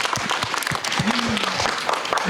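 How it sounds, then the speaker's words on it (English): An indoor school event audience claps for a student's mother, a brief burst of dense applause with a voice briefly heard over it. "Can I get a round of applause for the mother"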